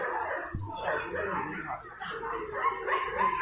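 A golden retriever whimpers in short, thin whines while being held, rising toward the end, under steady nearby chatter from several people.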